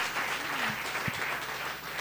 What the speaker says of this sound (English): a round of applause for Chase